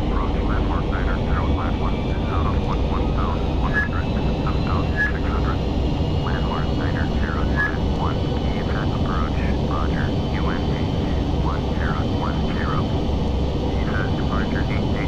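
Steady airliner cabin drone in Microsoft Flight Simulator X, a continuous low engine roar with faint higher whine, holding level throughout while someone talks over it.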